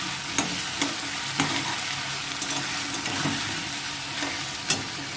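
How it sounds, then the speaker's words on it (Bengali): Ginger garlic paste sizzles in a pan while a spatula stirs it, giving a steady frying hiss broken by regular scraping knocks, close up and without talk. "দিয়ে এটাকে ভালো করে একটু নেড়ে চেড়ে কষে নেব।"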